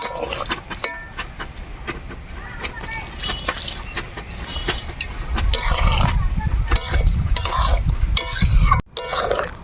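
Water pours into a pan of soybean curry with a steady liquid trickle and clinking of a utensil against the pan, louder toward the end, with stirring and bumping sounds throughout.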